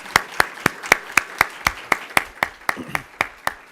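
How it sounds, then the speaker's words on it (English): Clapping at a nursing convocation and pinning ceremony comes as a sparse, even run of about fourteen sharp, distinct claps, evenly spaced and fairly close, as though from a few hands rather than a full crowd. "So give yourselves a big round of applause."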